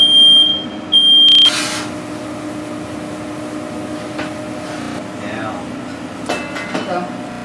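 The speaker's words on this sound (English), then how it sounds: "That's why the fire alarms keep going off." A piercing smoke alarm tone sounds twice in quick bursts at the start, then stops, leaving kitchen clatter and a low hum while pizza is being made.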